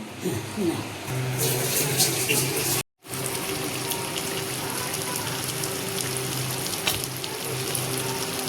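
Fish paturi wrapped in banana leaf cooking in a kadai, giving a steady sizzling, bubbling hiss that runs throughout, broken once by a brief cut of silence.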